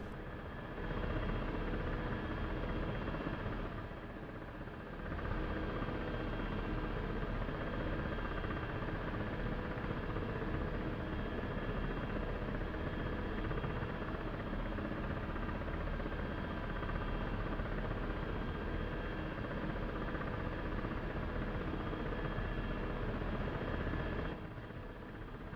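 Simulated helicopter in DCS World, a steady, loud broadband rotor and engine roar sustained throughout, with brief dips near the start and end.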